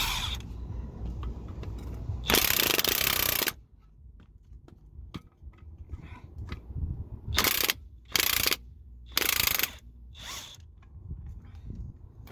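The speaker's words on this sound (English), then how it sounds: "undo the spring clamps now." Spring clamps are undone on the front coil spring of a Ford Fiesta Mk7, with bursts of loud ratcheting tool noise and quieter metallic clicks and handling sounds between them.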